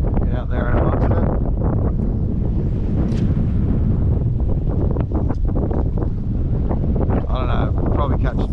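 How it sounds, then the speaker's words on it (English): Strong wind buffets the microphone continuously while fishing from a boat on open water, a loud roaring rumble that never lets up, with people talking intermittently over it. "This wind is ridiculous."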